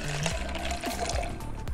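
Apple juice pours steadily into a whisky cocktail being mixed, a close, continuous liquid stream with a rising fill tone and no talking.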